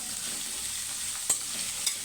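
Onions frying for a hotel-style kurma, with a steady soft sizzle from the pan and two brief louder scrapes as they are stirred, no talking.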